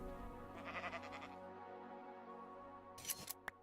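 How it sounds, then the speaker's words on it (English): A Minecraft sheep in the ATM 10 modpack lets out a clear, wavering bleat that lasts over a second, followed by short clicks and a brief crunchy game sound. The bleat is close and fairly loud, with no talking. "Okay, here's a sheep."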